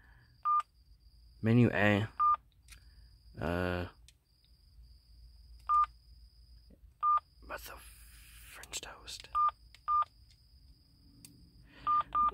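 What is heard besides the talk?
keypad beeps of an old Sprint mobile phone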